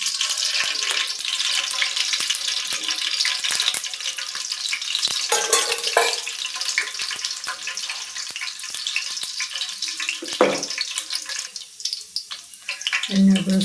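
A generous amount of oil sizzles steadily in a pan for tempering, made for North Karnataka style fenugreek kadubu. A continuous hiss runs throughout, broken by sharp crackles and an occasional utensil clink near the end.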